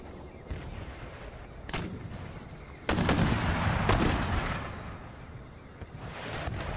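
Artillery and mortar fire rumble through an Empire Total War battle: several heavy booms and sharp cracks over a continuous roar of distant gunfire.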